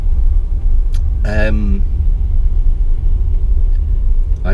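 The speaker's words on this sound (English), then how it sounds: "Sorry about all the noise. It's a bus right in front of me." A bus idles right in front of a parked car, a steady heavy low rumble that fills the whole clip, loud and near, with a brief tonal squeal rising over it.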